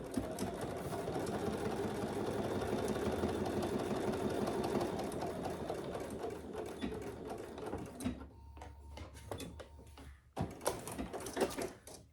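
A sewing machine bastes a magnet piece into a fabric clutch, humming steadily for about eight seconds before slowing and stopping, followed by a few scattered handling clicks.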